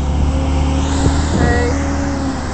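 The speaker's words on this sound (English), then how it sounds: "I wasn't expecting that truck." Truck driving past a parked 2008 Volvo S80 at a dealership, a near engine rumble and tonal whine that swells and fades over a couple of seconds, with no talk.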